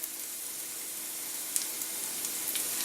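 Diced garlic sizzling in a pan while bacon, spinach and cheese stuffed mushrooms are made, a steady hissing fry with a couple of sharp pops, close and alone.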